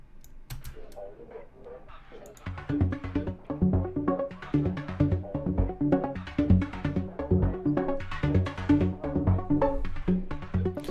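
A busy, bright electronic track with dense plucky synth notes and percussion, heavily squashed and forward-sounding through OTT multiband compression, starting quieter before the full mix kicks in.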